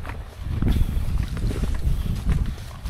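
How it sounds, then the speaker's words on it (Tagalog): Strong wind roars and buffets the microphone outdoors at a fishing spot, a loud, continuous rumble with gusting low noise throughout and no speech. "Kusog kayong hangin."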